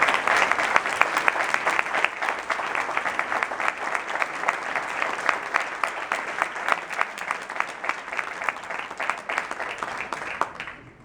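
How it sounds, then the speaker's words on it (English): Wedding guests applaud a best man's tribute to the groom's brother at the reception, a dense, steady burst of many hands clapping close by that runs the whole stretch and thins slightly at the end. "So please give him a round of applause."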